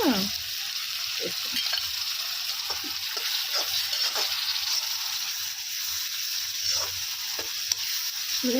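A ginger and garlic tempering sizzles on a husk-fired stove, a constant loud frying hiss with frequent small crackles and stirring taps, no speech.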